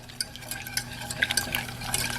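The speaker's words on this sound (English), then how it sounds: "pour about 1/3 cup of heavy cream, not half and half, heavy cream in the pan and just constantly stir" Heavy cream and chocolate stirred in a pan, soft close scraping and light taps of a utensil over a faint low hum, brief and quiet, with no talking.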